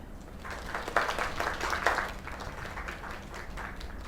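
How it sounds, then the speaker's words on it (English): A short burst of scattered clapping in a video game swells and fades, a small, faint round of applause with no voices. "Another round of applause."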